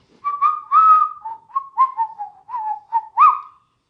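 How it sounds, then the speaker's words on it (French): A person whistles a short, lilting tune of quick rising and gliding notes, close and clear, alone with no other sounds. "Moi, je siffle."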